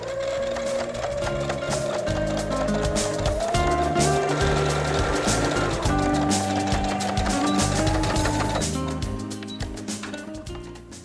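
A Brother CS6000i sewing machine running a straight stitch over a fabric pocket, a steady, close, loud mechanical whir with rapid needle ticking and a few speed shifts before it slows and stops near the end.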